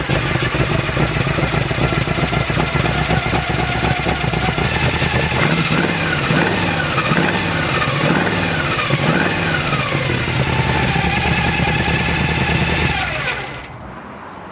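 Car engine idling after a full Holley 4160 carburetor rebuild, a loud, close, steady rumble with a few brief throttle blips midway before the sound drops off near the end.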